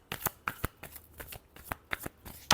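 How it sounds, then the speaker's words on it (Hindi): Tarot cards being shuffled by hand, a quick run of crisp riffling flicks and taps, close and fairly quiet with no voice. "Last shuffle."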